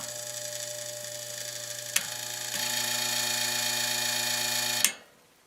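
A Lakewood HV12 heater's fan motor hums steadily with a tonal drone, sharp clicks at the switch, a rise in level partway through, then it cuts out after a final click and goes quiet.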